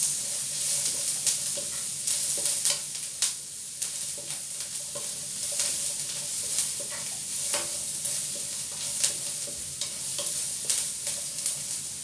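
Garlic and onion sizzle steadily in a pan for old-style chicken adobo. Repeated scraping stir strokes sound close and clear above the constant frying hiss, with no voices.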